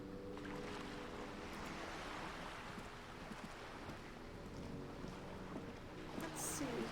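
Steady ocean surf from the video game Disco Elysium washes over a harbor dock setting, a loud continuous rush of waves with a brief brighter swell near the end, no voices over it.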